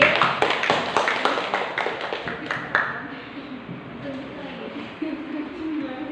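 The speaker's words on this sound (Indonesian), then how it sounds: "sekarang tepuk tangan lagi" Students in a classroom clap together in a quick run of sharp, rhythmic claps lasting about three seconds, then stop as a teacher's voice carries on talking.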